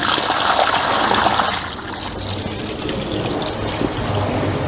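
Opened valves on rainwater tanks let water gush and pour out, a loud, close rushing flow that eases slightly partway through but keeps running steadily, with no voices.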